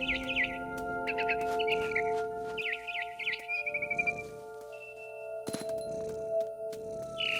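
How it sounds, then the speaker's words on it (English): A barn swallow chirps in What Remains of Edith Finch, bright repeated twittering bursts near and clear over a quiet tonal game hum, with a few sharp clicks between calls. "Then I heard chirping outside my window. It was a barn swallow going back to her nest."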